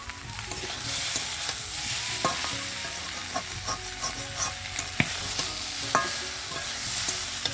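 Boiled taro is stir-fried with spices in a wok over a wood-fired stove, giving a continuous close sizzle with repeated scraping strokes of the spatula and occasional sharp clacks against the pan.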